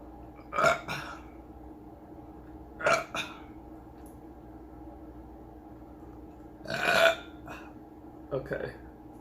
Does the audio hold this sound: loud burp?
yes